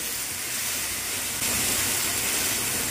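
Spice paste of chili and turmeric with a splash of water frying in hot oil, a steady hissing sizzle that grows a little louder midway and continues unbroken.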